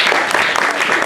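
A crowd at a Duta TV gathering gives a short burst of dense, steady applause, loud and close, lasting about a second.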